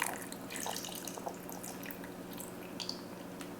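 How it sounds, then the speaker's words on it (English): Water poured into a pot while making shrimp cocktail, with a soft, steady trickle and light splashing at close range. It runs continuously, quiet and without talk. "But I'm just going to pour some of this water."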